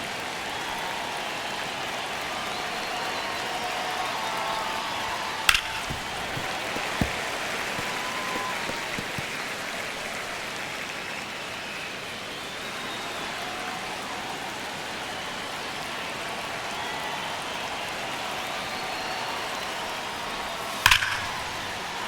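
Simulated baseball stadium crowd during a Dodgers at Arizona game in MLB The Show 25, a steady wash of distant murmur and rumble with a couple of sharp cracks standing out.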